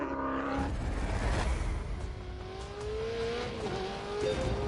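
A Ferrari 488 driven hard on a lap, engine note climbing and sustained close by with a rising whine, continuous and loud throughout.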